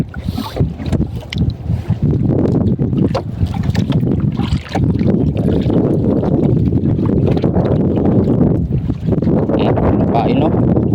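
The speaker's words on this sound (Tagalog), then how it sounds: "Lipat yung bangka namin kasi ano, malakas yung alon." A small fishing boat rocks and knocks on strong sea waves, with steady wind and water noise close by and sporadic voices mixed in throughout.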